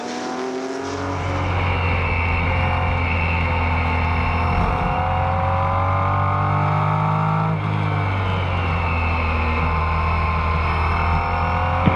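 Race cars at the Rennsport Reunion, including a 1969 Porsche 917K, roar past close by. A loud engine note rises and holds while a second car's tone shifts underneath it, with no talk.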